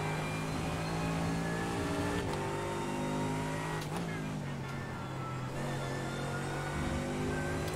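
A 2015 AMG race car in the iRacing sim engine drones steadily at high revs, with gear shifts and brief revving dips breaking the tone, continuous and close throughout.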